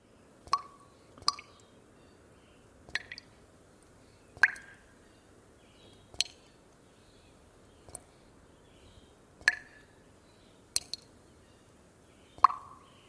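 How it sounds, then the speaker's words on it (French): Water drops fall one at a time into a box, each landing as a sharp, resonant plop, about eight of them spaced a second or two apart in an otherwise quiet space. "une goutte qui tombe dans une boîte."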